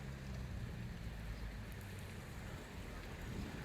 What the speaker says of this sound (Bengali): কত সুন্দর বৃষ্টি হচ্ছে